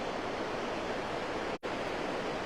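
Fast-flowing river water rushing loudly and steadily, a dense even roar with a brief dropout near the middle and no voices.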